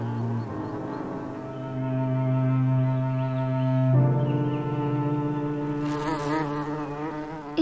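A foraging honeybee hums in a steady, droning buzz with a shifting pitch that continues throughout, close and prominent, with no talking.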